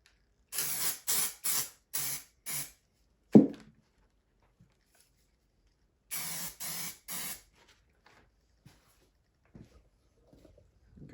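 Amaco Sprayz paint sprayer misting colors, heard as two sets of short hissing spray bursts in quick rhythm, five then three, close and fairly loud, with a single thump in between and quiet gaps.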